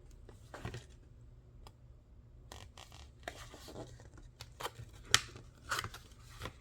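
Scissors snip paper for a handmade ephemera box, quiet irregular cuts and crisp rustles close by, with a few sharper clicks near the end and no one speaking.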